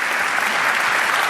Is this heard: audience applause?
yes